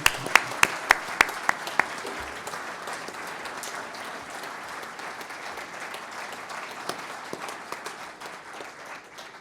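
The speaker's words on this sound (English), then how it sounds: "can you give them a round of applause, please?" Sustained audience applause at a Hall of Fame induction ceremony, with a few sharp, close individual claps at the start before dense, steady clapping from a large crowd fills the rest.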